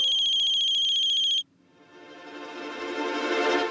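A phone ringtone plays a rapid, bright electronic trill, then stops and gives way to a rising tonal melody that swells louder toward the end, with no talking over it.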